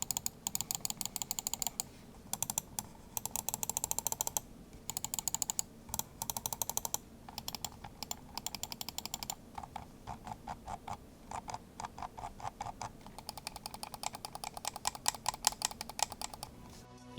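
Computer mouse buttons clicked over and over, crisp close taps in quick bursts with short pauses between, some runs faster and denser, no talking.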